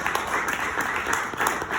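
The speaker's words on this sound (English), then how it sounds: "Well, thanks for the applause." Audience applause at an award ceremony for spoken word radio, a dense, steady wash of clapping from a crowd filling the room, with no speech over it.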